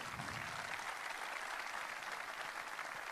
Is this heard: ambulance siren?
no